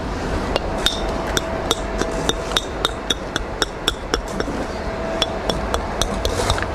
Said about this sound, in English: Can't beat a good brick hammer.